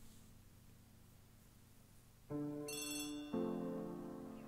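Telephone ringing in the Agatha Christie The ABC Murders game, a bright bell-like ring that starts abruptly after quiet room hiss and repeats in two close bursts, loud and near, with no speech.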